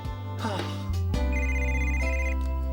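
A telephone rings in a cartoon scene, giving a loud, steady electronic ring that stops after a short burst of tones, with no voices over it.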